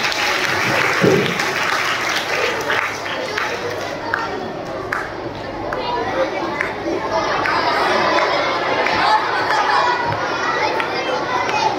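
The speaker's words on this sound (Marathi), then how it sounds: "सावित्रीबाईंसाठी जोरदार टाळ्या झाल्या पाहिजे" Loud, sustained applause from a school audience at a 2024 cultural programme, cheering a student who played Savitribai Phule, with children chattering through the clapping.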